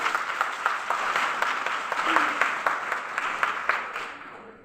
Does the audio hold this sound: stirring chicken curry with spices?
no